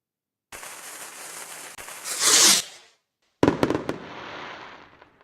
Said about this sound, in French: Des petites feux d'artifice qui s'envoient.